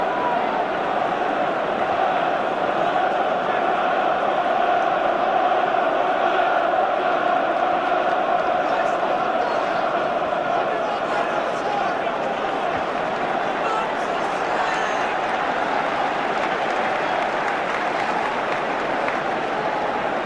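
Dense football crowd noise after a Millwall goal puts the home side 3-2 ahead: steady, loud applause and cheering from a large stadium crowd, sustained without a break through the whole stretch.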